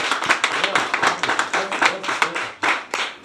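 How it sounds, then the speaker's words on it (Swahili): A church congregation claps at a baby's dedication service, with quick rhythmic hand claps rising and falling close by while a voice speaks over them. "Hebu tumpigie makofi."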